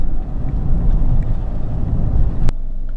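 Toyota Prado 150 with a 3.0L diesel engine accelerating hard with the foot down, a steady loud low engine drone and road rumble throughout, with a brief sharp click near the end.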